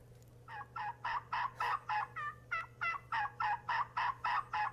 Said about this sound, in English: This one is a turkey.